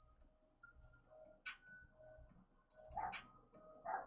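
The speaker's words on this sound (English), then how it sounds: "My dog is barking." A pet dog gives a few faint, short barks in a quiet room, two brief yelps near the end over a steady high electronic ticking tone.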